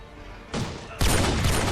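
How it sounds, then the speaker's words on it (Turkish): Loud gunfire bursts from The Walking Dead video game, a sharp volley followed by a denser sustained fusillade over the last second, with no talk during the shots. "Vurayım mı? Vur vur temizle temizle."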